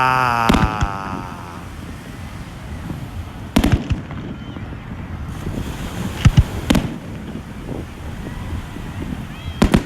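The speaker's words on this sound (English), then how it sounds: "this is where we're always going to watch the fireworks, from right here on the beach" Coney Island fireworks over the beach, several sharp, loud bangs and crackling bursts spread at irregular intervals against a low background rumble of surf and crowd.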